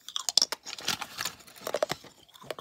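Close, crunchy chewing of stale gum from an old 1988 Topps baseball card pack, with irregular bites and moist crackling mouth sounds in quick succession, no talking.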